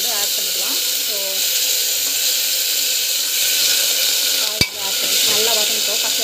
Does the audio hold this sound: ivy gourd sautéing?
yes